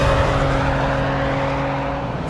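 An engine howls at full throttle in fourth gear near 6,000 rpm as the car approaches 100 miles an hour, heard as a loud, steady, close drone with no talk.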